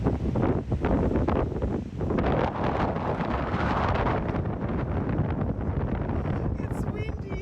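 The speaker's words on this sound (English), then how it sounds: "It's windy." Strong coastal wind at Portarlington near the pier rumbles and buffets the microphone without a break, with a faint voice partly buried beneath it.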